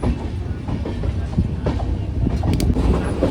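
A passenger train runs on the Katpadi to Tirupati line, with a steady loud interior rumble and rhythmic clickety-clack of wheels over rail joints heard from inside the coach.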